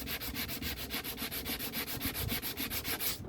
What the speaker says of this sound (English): give them a quick rub over just to smoothen out any edge